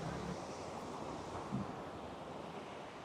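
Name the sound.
Drung waterfall in Gulmarg, Kashmir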